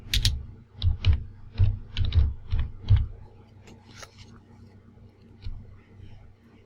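Keys clatter on a computer keyboard while typing a search into Windows. A quick run of about eight crisp keystrokes is followed by a few sparser, softer clicks, close and clear.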